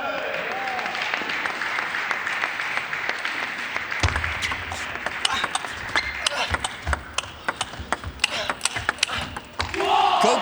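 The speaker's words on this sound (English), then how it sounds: "Crowd trying to show their support for Liam." A crowd at an England vs Japan men's table tennis team match at the 2018 ITTF Team World Cup applauds steadily, then sharp ball taps and thuds ring out over the continuing arena noise.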